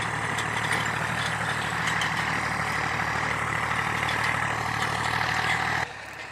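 Tractor engine idles with a steady low rumble and even mechanical drone, close and continuous, dropping slightly in level near the end.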